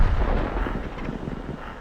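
A Leopard 1 tank in a video game is struck in the side by an enemy HE round, giving a deep, heavy boom with a rumbling low tail that fades out over about two seconds.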